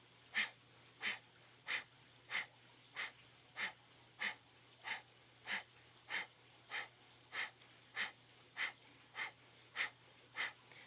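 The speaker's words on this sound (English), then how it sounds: "we'll do a nice, strong, slow cadence of breath of fire" Kundalini yoga breath of fire: a steady, slow cadence of sharp, forceful nasal exhales repeats about every half second, evenly spaced and fairly quiet, with no talking.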